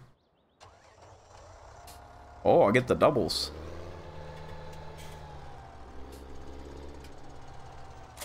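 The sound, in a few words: tractor engine starting and idling in farming video game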